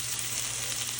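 Onions frying over high heat in a pan while being stirred, producing a steady close sizzle with no pauses.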